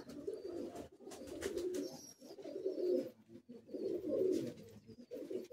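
Madrasi pigeons with black-bead eyes, collected from Chennai, coo in a Kolkata high-flying pigeon loft, soft repeated low throaty calls in steady overlapping bursts, fairly close and quiet with no talk.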